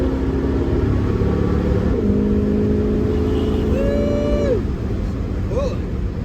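Engine of a 1972 Chevrolet Nova revving up through a gear change while driving on a highway, a steady loud drone that drops pitch at the shift and then climbs again, with a brief whoop at the end.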